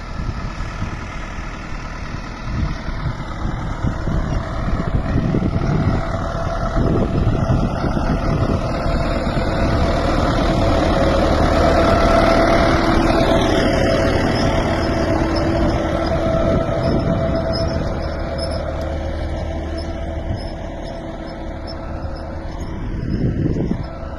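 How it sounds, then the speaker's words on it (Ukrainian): A tractor engine runs steadily at low speed while hoeing a watermelon field, a continuous close rumble with a faint whine, unchanging throughout and no talking. "І отак ось йде трактор."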